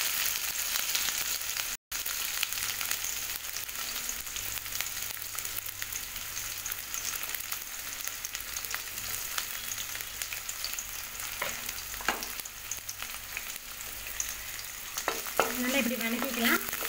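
Shallots and chana dal sautéing in hot oil in a pan for an okra stir-fry, a dense continuous sizzle with occasional stirring scrapes and clinks, close up and steady throughout with no voices.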